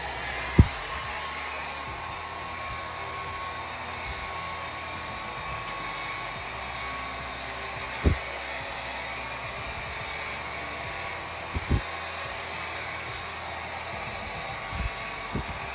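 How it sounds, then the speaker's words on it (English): A hair dryer blows steadily and close while hair is blow-dried for a braided ponytail, a constant airy roar running throughout with a few faint clicks and bumps. "Blow dry."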